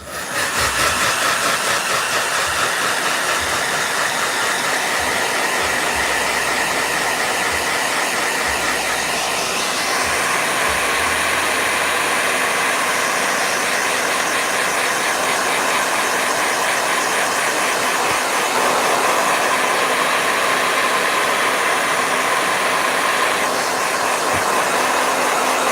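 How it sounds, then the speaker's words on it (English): A hair dryer blows steadily and loudly for the whole stretch with a continuous airy hiss and a slight shift in pitch partway through, used while sketching Spider-Man and Batman, with no talking over it. "Blow dryer."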